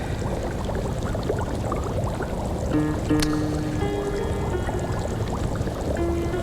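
Water runs continuously from an indoor tap, a steady gushing splash with a brief tonal hum partway through; close and moderately loud, with no talking.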